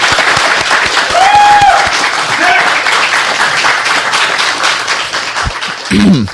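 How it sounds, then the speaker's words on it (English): An audience claps and cheers steadily throughout, with a few louder whoops rising briefly above the dense applause. "I want to get a round of applause for our producer here, Kit Silver."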